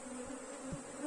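Honey bees from a mother swarm leaving a split hive drone in a faint, continuous buzz, with a soft thump near the middle.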